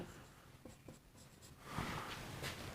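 Marker or chalk writing on a board during a maths lesson, a few short scratchy strokes followed by a steadier run of scribbling, close and fairly quiet with no speech.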